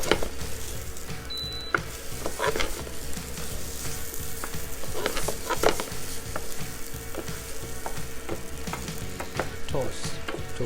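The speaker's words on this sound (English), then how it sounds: "I'm gonna toast a little bit the rice, okay, with the sauce they have, with the mushrooms sauce." Rice toasting in a pan with porcini mushroom sauce at a risotto cooking class, a continuous close sizzle with scraping stirs and occasional utensil clinks, no talk.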